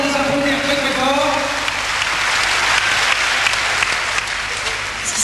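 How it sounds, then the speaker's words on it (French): Audience applause after a Muay Thai fight, a steady dense roar of clapping that fills the whole stretch at close range, with faint voices mixed into the crowd noise. "Je crois qu'on peut les applaudir très fort."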